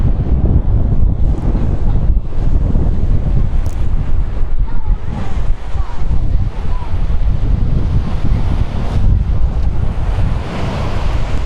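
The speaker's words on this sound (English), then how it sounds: "You have the cool and fresh wind, it's a tramontana." Cool, fresh tramontana wind gusting steadily across the beach at L'Escala on the Costa Brava, with the constant roar of wind against the microphone blending into surf breaking nearby throughout.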